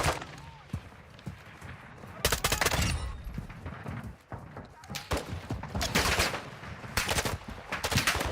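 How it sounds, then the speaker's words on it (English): AI enemies in the DMZ video game fire on the player in loud bursts of automatic gunfire, with several volleys crackling close by and rattling shots continuing between the heavier bursts. "Stop shooting me."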